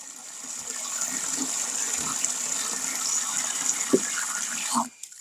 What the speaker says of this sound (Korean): 자, 물 시원하게 나오고 있습니다.